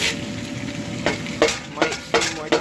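Onion added to a hot pan sizzles and fries as a spoon stirs it, with several distinct scraping knocks of the utensil against the pan over a steady hiss, no talking.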